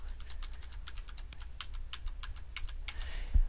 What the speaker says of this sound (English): I'm just going to use the arrow keys to nudge it in